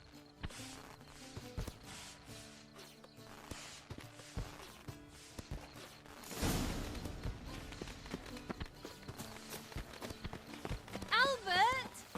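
Horse hooves clip-clop on the ground in The Witcher 3 video game, a steady rhythm of light taps under music and other game sounds, with a louder thump midway.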